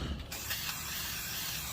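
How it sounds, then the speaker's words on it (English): Aircraft paint remover sprayed from a can onto a Foxbody Mustang's interior speaker grill, a continuous close, loud hiss that runs unbroken after a brief start, with no talk. "spray it with the aircraft paint remover"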